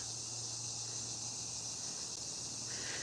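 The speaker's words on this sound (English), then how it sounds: "Cicadas." Cicadas buzzing in a backyard, a steady faint high-pitched drone that carries on without pause, with a low hum underneath and no voices.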